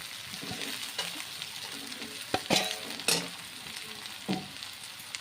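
Jackfruit curry with meat spices sizzles in a pan while a spatula stirs it, irregular scrapes and knocks over a continuous frying hiss, close and moderately loud, no talking.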